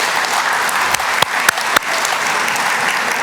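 Applause from new teachers at a 2019 USD 497 school district convocation, a steady wash of many hands clapping across a large room with a few sharper individual claps standing out.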